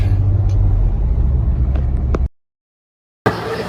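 Steady low engine and road rumble from inside a moving car on the way to school, constant and fairly loud, breaking off into a second of silence before the cabin noise returns.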